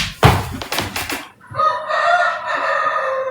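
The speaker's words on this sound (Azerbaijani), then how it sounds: "Xoruz, kəs səsini" A rooster crows loudly and close by in a long drawn-out call, following a burst of clattering, clucking farmyard noise.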